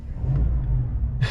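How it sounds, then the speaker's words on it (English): A 2021 Chevy Silverado Z71 Trail Boss with the 6.2 V8 revs once, a deep low rumble swelling and holding briefly, then ends with a short sharp noise. "Watch when we rev it up, like the entire truck shakes."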